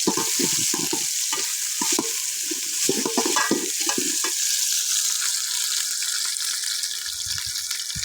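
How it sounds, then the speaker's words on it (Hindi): Ginger paste frying with golden-brown onions in a pan: a continuous hiss and sizzle broken by repeated scraping stirs early on, then steadier frying alone. "यहाँ पर अदरक का पेस्ट जो है वो शामिल करेंगे और 2 मिनट तक अच्छे से फ्राई कर देंगे।"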